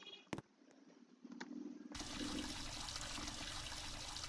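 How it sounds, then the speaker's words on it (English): Tap water starts running for face washing, a faint trickle and a few knocks at first, then a loud, steady gush of water that continues to the end. "let us wash our face"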